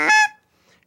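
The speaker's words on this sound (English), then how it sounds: "goose call" A single sharp, loud honk is blown up close on a handheld goose call, cut off quickly and followed by near silence.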